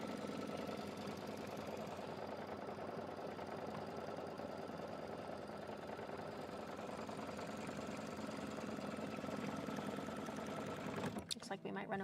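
An embroidery machine stitches a zipper in the hoop, tacking it down, a steady mechanical whirr running throughout with voices talking over it, before stopping abruptly near the end.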